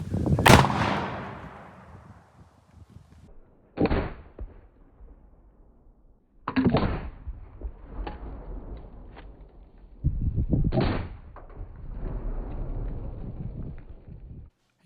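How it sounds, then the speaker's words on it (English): Rogue Arsenal flash bang grenades detonating against a large steel structure outdoors: four sharp, loud bangs spaced a few seconds apart, each followed by a rumbling echo and decay. "absolutely no problems with it detonating against a gigantic steel structure"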